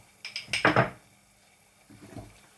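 A tray of baked poğaça comes out of a small home oven, giving a close cluster of metallic clanks and rattles followed a moment later by a softer knock, with no talking.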